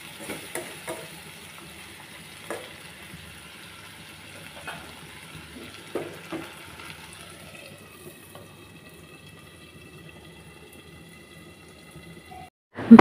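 Shingi fish bhuna in a pan being stirred with roasted cumin powder, giving a low, steady sizzle with scattered scrapes and clinks of the spatula, fairly close and moderately quiet, ending in a sharp knock.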